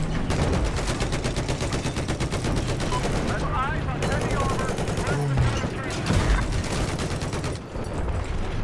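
Rapid gunfire bursts from a Battlefield 4 firefight crackle steadily throughout, dense and continuous, with a voice talking over the shooting.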